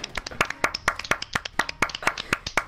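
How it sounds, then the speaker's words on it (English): Players in Call of Duty Modern Warfare clap together in a crowd-like burst, sharp irregular hand claps stacking up over about three seconds, close and fairly loud with no talk over them. "Everyone clap."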